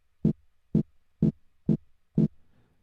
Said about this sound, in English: So if I just tap the pad, it's going to sound like this.